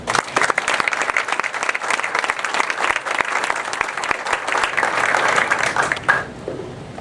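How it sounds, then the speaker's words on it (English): A community crowd gives Colleen, the Main Street Director, a steady round of hand clapping in a hall, dense and even for about six seconds before cutting off abruptly. "I'd ask everybody to give Colleen a hand of applause"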